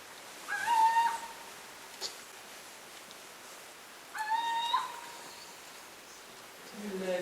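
Two bursts of tonal, stacked calls from nocturnal birds near a bridge at night, each lasting under a second and separated by a few seconds of quiet outdoor background.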